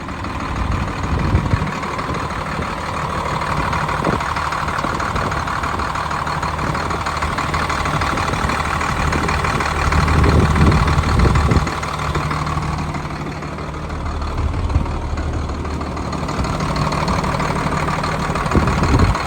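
A 2010 Hino 268 box truck with a six-speed, running at a steady low idle that holds for the whole stretch, with a slight swell in the rumble midway.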